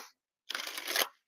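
Tarot cards being shuffled by hand, a brief papery riffling burst of about half a second that swells and then stops, close and fairly quiet, with no talking.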